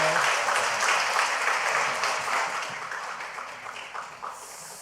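A church congregation applauds at a new-members graduation and baptism service, a dense, steady crowd clapping that slowly fades toward the end.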